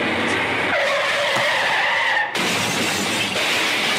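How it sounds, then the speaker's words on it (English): A car crash effect: tires skid and squeal for about two seconds, then an abrupt loud smash of shattering glass and debris that rattles on to the end. "I'm going to play the car crash."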